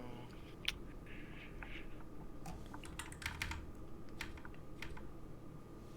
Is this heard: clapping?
no